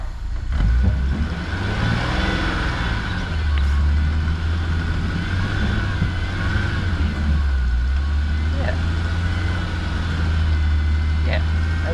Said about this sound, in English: we're just spinning tires, but we are making slight progress